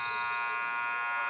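An end-of-quarter buzzer at a high school basketball game sounds as one loud, sustained electronic tone lasting the whole moment, steady and unbroken.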